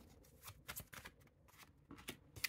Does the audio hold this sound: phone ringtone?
no